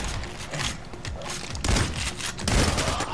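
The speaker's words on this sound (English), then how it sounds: "Oh, why am I using the shotgun?" Shotgun blasts in PAYDAY: The Heist come in a few heavy, booming bursts over busy in-game action, with the loudest shots near the middle and end.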